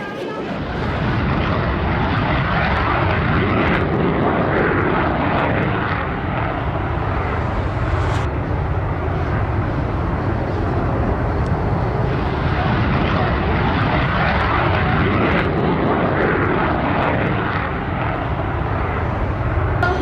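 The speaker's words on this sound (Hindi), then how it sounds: "जोधपुर के आसमां में जहां तेजस, सुखोई और प्रचंड जैसे दमदार भारतीय लड़ाकू विमानों की ताकत का शोर है" A powerful jet roar from Tejas and Sukhoi fighter jets and Prachand helicopters fills the air over Jodhpur continuously, loud and rumbling with slight swells, as aircraft thunder past overhead.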